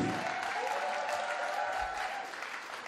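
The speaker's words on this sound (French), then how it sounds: "acclame bien le Seigneur avec le cri de joie ici" Church congregation applauding and cheering for the Lord in a worship service, with dense, sustained clapping and joyful shouts throughout, loud and close, fading slightly toward the end.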